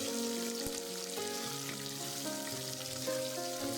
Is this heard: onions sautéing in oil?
yes